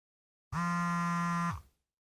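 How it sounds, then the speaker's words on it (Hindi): A single electronic ring tone from a mobile phone at home sounds once, a steady buzzing tone lasting about a second before cutting off and fading, with no voices over it. "तुम्हारा फोन बज रहा है।"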